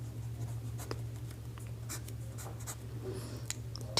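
A pen scratches steadily across paper while a Class 10 geometry solution on circles is written out, producing a run of short, close strokes over a constant low electrical hum, with no speech.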